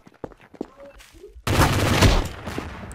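Burst of rapid gunfire in the multiplayer game Trouble in Terrorist Town, loud and dense for about a second and a half after a stretch of scattered quieter sounds and voices, then tailing off.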